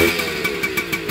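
A 1980 Kawasaki KV75 minibike with no fuel tank idles low, a small engine putting out a steady, close chugging with a fast, regular pulse and light rattles.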